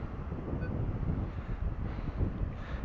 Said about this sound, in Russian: Ветер не утихает.